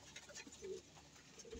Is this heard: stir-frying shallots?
no